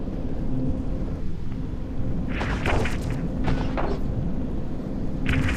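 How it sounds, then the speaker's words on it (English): A cruiser explodes in the space game EVE Echoes, heard as a steady deep rumble with a few brief, muffled bursts layered on top, continuous and moderately loud without any voices. "And the Omen has been destroyed."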